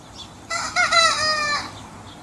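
A rooster crows once, close and loud, a single strained cock-a-doodle-doo rising and then holding steady for about a second over a quiet background.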